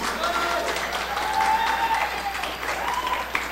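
Steady audience applause at a library symposium, a continuous wash of many hands clapping together that stays fairly even and moderately loud throughout, with no talking on top.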